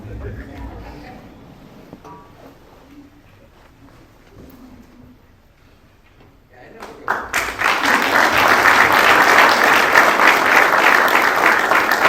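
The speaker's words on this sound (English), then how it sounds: "Please hold all applause until the end." An audience at a military promotion ceremony for a lieutenant colonel breaks into loud, sustained applause after a quiet stretch with some faint talking, and the clapping fills the hall to the end.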